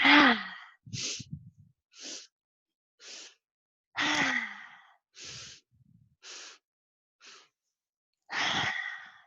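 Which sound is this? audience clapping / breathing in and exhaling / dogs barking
breathing in and exhaling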